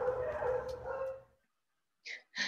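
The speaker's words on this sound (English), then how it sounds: "you could all kind of hear me through that barking" After a stretch of muffled background noise, a dog gives two sharp, close barks in quick succession.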